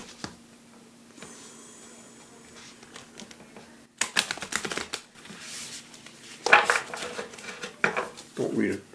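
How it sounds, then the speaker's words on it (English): A deck of tarot cards is shuffled by hand in a cramped space, with bursts of riffling and flicking that grow busier and louder toward the end, after a quieter stretch. "Okay, I'll shuffle a couple times."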